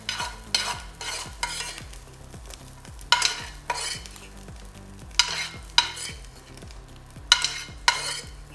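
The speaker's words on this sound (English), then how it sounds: "Once we have our bacon rendered down, let's go ahead and take it out." Bacon frying in a pan while being stirred, a steady sizzle punctuated by sharp, regular scrapes and clinks of a utensil against the pan, roughly one every half second, up close.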